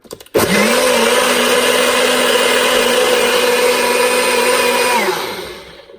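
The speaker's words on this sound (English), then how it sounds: "I used the ladled all the ingredients into the magic bullet here" A Magic Bullet blender whirs through keto hot sauce ingredients, a loud steady motor drone that starts abruptly, holds for several seconds, then winds down.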